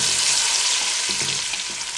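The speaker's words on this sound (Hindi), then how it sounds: "तीन से 4 मिनट के लिए इनको अच्छे तरीके से भून लें टमाटरों को" Tomatoes frying in a pan for a mixed daal, a steady close hiss and sizzle with a few soft stirring scrapes, loud and continuous without voices.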